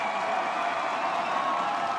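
Near the end of a Thursday-night NCAA women's soccer match in Tuscaloosa, the Alabama stadium crowd gives a brief, dense burst of cheering and applause, a sustained roar with no clear pauses.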